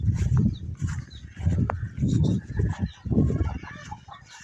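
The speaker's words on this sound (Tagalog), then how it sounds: "medyo malalaki mga sisiw natin" Chicks and chickens on a farm, a continuous close mix of clucking and cheeping calls with rustling movement, fairly loud throughout.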